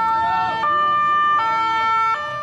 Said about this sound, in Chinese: 优先互救护车通过